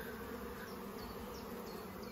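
Honeybees hum in a dense, continuous buzz during a hive inspection, a close, steady drone with no talking over it.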